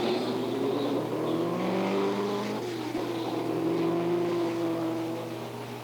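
A push-started racing car engine runs and drives off as a continuous close droning roar, its pitch rising and settling as it revs, then easing slightly toward the end.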